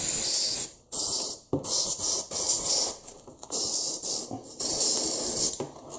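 Aerosol spray paint hissing onto MDF model ruins in long bursts separated by brief pauses, close and loud, with no talking.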